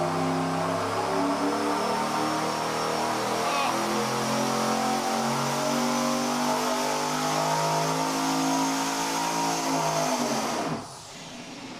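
A loud engine roars steadily under heavy load on a dyno for about ten seconds, fitted with an air-to-air intercooler, its pitch sweeping and droning, then cuts off abruptly near the end.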